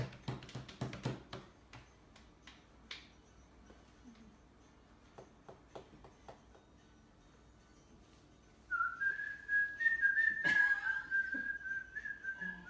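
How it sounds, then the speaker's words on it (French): A clear, sustained whistled tone rises up in the second half, wavering slightly, after a stretch of scattered clicks and knocks. "je vais siffler un peu là"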